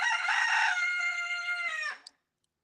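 A rooster crows loudly and close by, one long sustained cock-a-doodle-doo lasting about two seconds, then it cuts off into silence.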